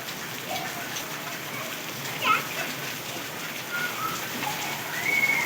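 Heavy rain pours steadily outdoors during a household power outage, a dense continuous hiss with scattered faint bird whistles on top and a brief louder swell near the end.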